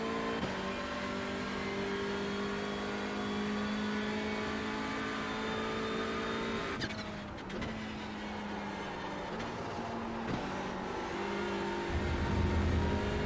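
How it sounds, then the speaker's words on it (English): A TCR touring car engine in the iRacing sim at Silverstone drones steadily at high revs, the pitch dipping and shifting midway as the car understeers wide through a corner, with no one speaking. "You could hear it just understeering out wide."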